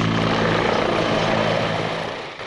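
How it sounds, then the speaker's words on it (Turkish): A T-129 ATAK attack helicopter, Türkiye's first national helicopter, performs demonstration maneuvers with a loud, steady roar of rotor and engine that fades slightly near the end, with no voices. "Türkiye'nin ilk milli helikopteri gösteri sırasında manevra kabiliyetiyle dikkat çekti"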